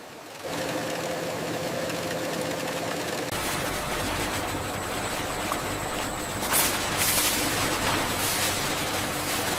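A banana stem fiber spinning machine running at over 10,000 rotations per minute in a processing factory, giving a steady loud mechanical whir with rapid rattling that grows denser after a few seconds, with no talk.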